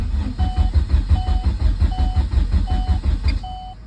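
A turbocharged Chevy Cruze with a suspected fuel filter problem cranks without catching, its starter chugging in a steady rapid rhythm close by while a beep sounds repeatedly at regular intervals over it.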